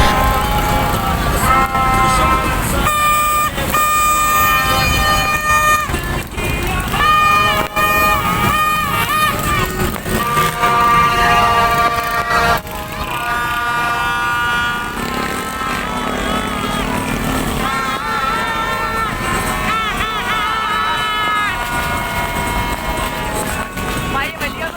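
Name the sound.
vehicle horns honking in jammed traffic, independence day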